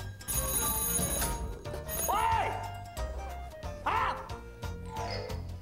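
A telephone bell rings in repeated bursts in a busy setting, with background noise and clattering throughout.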